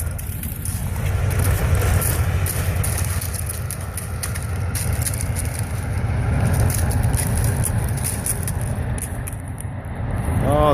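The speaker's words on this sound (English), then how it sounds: "Here comes the train." Auto train carrying covered cars rolling past, a steady loud low rumble that swells and eases as the cars pass close by, with some faint background chatter.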